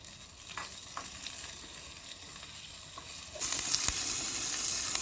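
Onion, curry leaves and garlic sizzle and crackle in hot oil, with soft stirring scrapes; the frying grows noticeably louder and brighter partway through and stays steady, close by with no voices.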